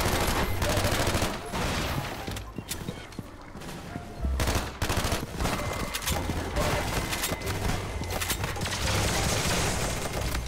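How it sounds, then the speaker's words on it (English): Rapid video game gunfire in the Nova Prospekt level, dense bursts of shots crackling almost continuously, loud, with short lulls between volleys. "Where am I getting shot from?"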